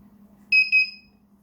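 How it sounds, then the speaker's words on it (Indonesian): An electronic buzzer on a sensor-based visitor counter gives a short, high-pitched double beep, two quick bursts close together, over a faint low hum. "Dan buzzer bunyi 1 kali, ini berarti pengunjung terdeteksi oleh sensor SAP."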